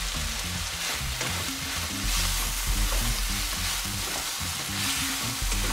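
Vegetable kurma ingredients with turmeric powder being stirred and worked together in a hot pan, a loud, continuous sizzle with steady scraping stir strokes throughout.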